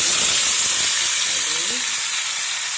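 Chopped tomato pieces sizzle steadily in a pan with cumin, a continuous close, loud frying hiss with faint stirring underneath.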